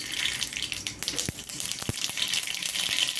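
Mustard seeds tempering in about three spoons of hot oil for a drumstick and tomato curry give a steady, close, loud sizzle with scattered sharp pops and crackles.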